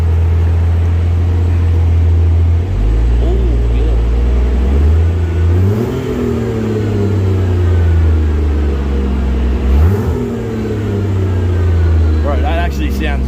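A Barra-swapped Toyota JZX100 engine idles close by, then revs twice on the throttle, each rise sweeping up and dropping back to a smooth idle, with voices in the background.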